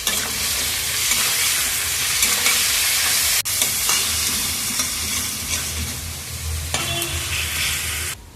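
Chicken liver sautéing in a pan: steady sizzling and frying with occasional stirring scrapes, loud and close, no talking.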